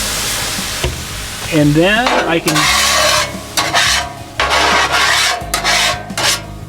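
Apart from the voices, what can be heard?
water sprayed onto a hot cast iron griddle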